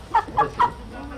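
A rooster, handled during a poultry insemination training session, gives three short, close clucks in quick succession, then falls quiet.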